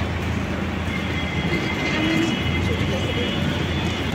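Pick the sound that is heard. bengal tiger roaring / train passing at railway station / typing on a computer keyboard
train passing at railway station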